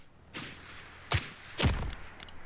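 Gunfire aimed at a sniper in the video game Blackhawk Rescue Mission 5: a few sharp, separated shots with booming low thumps and lingering tails, moderately loud, with no talk.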